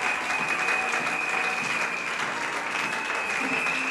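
A church congregation at Sunday service applauds continuously, a dense, even wash of clapping from many hands in a large room, with faint voices mixed in throughout.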